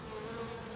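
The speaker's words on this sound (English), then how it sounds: "as you can see, bees coming in and out" Honey bees flying in and out of a hive make a faint, continuous buzzing drone over a short moment.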